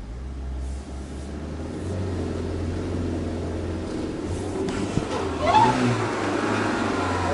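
A Peugeot car engine hums low at idle, then rises in a revving surge while the handbrake is applied, heard from nearby with no one speaking.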